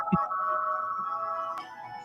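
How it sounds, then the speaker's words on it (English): A mobile phone rings with a sustained electronic tone held for about two seconds, fairly close and steady over quiet background, with no talking. "If you heard that, that was my phone ringing."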